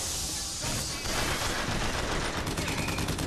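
Gunfire crackles through a Bioshock Infinite battle as enemies shoot at one another, with steady, dense bursts continuing loudly from about a second in and no voice heard.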